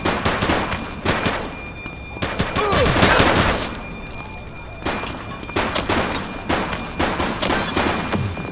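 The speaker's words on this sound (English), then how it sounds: "He's shooting!" A suspect fires a gun in The Precinct police video game: loud, close bursts of rapid gunshots in several volleys separated by brief pauses.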